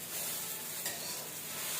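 Rice is fried in a pan for cauliflower pulao, giving a steady, soft hiss of sizzling with a faint scraping stir partway through.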